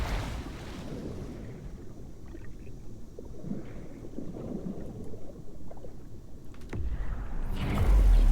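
A waterfall in the video game Call of the Sea, heard as a steady, broad rushing wash of water with a low rumble that continues throughout and grows slightly louder at the end.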